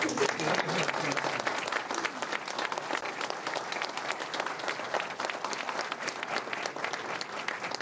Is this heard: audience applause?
yes